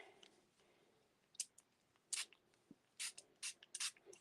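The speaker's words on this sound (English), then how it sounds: "We're going to spritz this again." Quiet, close spritzes from a spray bottle misting water onto stamped paper, about five short bursts spaced irregularly over a faint, still background.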